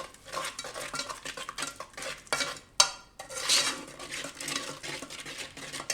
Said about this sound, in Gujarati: તો આ બધું આપણે મિક્સ કરી લેવું આ રીતે.